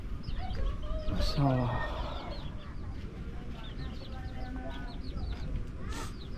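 Chickens cluck and call from a combined chicken and duck coop at an old, run-down rural house, with a rooster-like call standing out midway over steady background noise while a voice speaks briefly.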